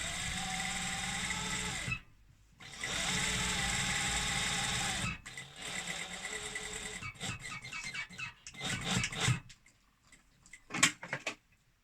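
A sewing machine stitches the centre back seam of a pair of trousers in close, steady whirring runs, two long bursts broken by a pause, then shorter stop-start stitching and faint handling noises.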